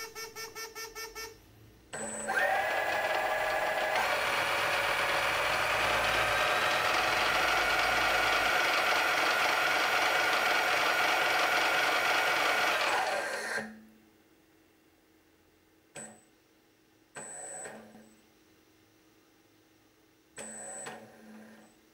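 A brushless motor drives a mini lathe through speed calibration, whining steadily for about ten seconds with its pitch shifting. It then cuts out, and a few short motor bursts follow in the quiet, with no talking.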